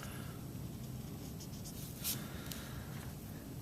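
A pen sketches a rough graph on paper by hand: a faint, steady scratching and gliding with a couple of brief sharper strokes, close and quiet, with no voices.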